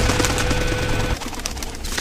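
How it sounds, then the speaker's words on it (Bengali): Pigeons nesting in the moss-covered, salt-damaged brick walls of an old ruined house flap and coo overhead, a close burst of wing flutter and cooing that cuts off abruptly. "শ্যাওলা ধরা নোনা ইটের দেওয়ালে ফাঁক করে বাস করা পায়রা হঠাৎ করে মাথার উপর দিয়ে উড়ে"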